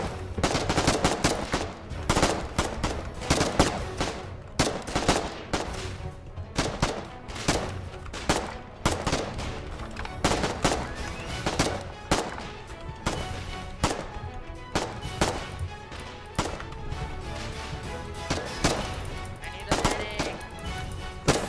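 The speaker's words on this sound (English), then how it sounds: "Fighting with pistols, they must be out of weapons." Rapid gunfire in the war game Foxhole, including pistol shots, cracks sharply in dense repeated bursts throughout, loud and close with some overlapping distant shots.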